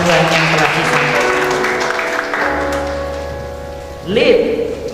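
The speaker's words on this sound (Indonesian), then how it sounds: "Kita beri tepuk tangan untuk firman Tuhan yang telah disampaikan." Church congregation applauding after a sermon at a Sunday worship service, a steady wash of clapping across the room that tapers slightly, then swells again near the end.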